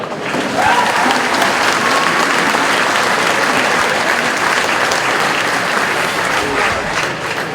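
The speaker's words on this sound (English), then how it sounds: "So I'd like to give you a huge round of applause to you guys." Sustained crowd applause after a Trim v Donaghmore Ashbourne hurling final in 2022, dense and steady throughout with no pauses, loud and fairly close.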